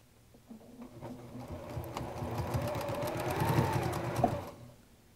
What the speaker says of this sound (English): And I'm not going to sew very far down this side.